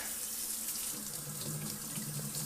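Hot tap water runs steadily into a kitchen sink as raw chicken is rinsed, giving a continuous close splashing hiss with no pauses.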